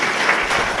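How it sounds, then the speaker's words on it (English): Brief burst of audience applause at a press conference with a soccer coach, fairly loud and uniform, lasting under a second. "I'm going to clap for that again."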